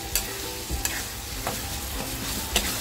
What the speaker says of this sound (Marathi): खिमा छान फ्राय झालाय